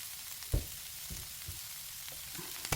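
Nodding wild goat's beard greens stir-fried briefly in a frying pan still coated with onion and scallion seasoning: a soft, steady sizzle with a few sharp spatula scrapes and taps, close and clear, no talking.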